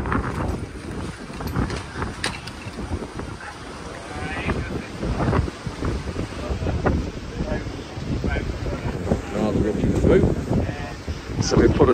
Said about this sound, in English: you will see that we won't be able to hear anything because of the wind.